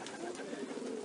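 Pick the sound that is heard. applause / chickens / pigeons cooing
pigeons cooing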